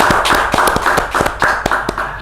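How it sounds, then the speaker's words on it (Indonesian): Quick, close rhythmic hand claps, about a dozen sharp smacks in steady succession from a small group or a single pair of hands, loud and dry, with no voices. "Tepuk tangan dulu dong untuk Mr. Puisi."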